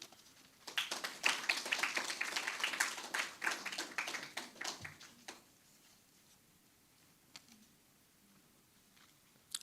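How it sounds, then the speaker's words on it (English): Audience applause at a book launch for a collection of short stories by Saint Lucian authors: a burst of scattered clapping for several seconds, fading into sparse, isolated claps, moderately distant in a room. "A round of applause for Lindell."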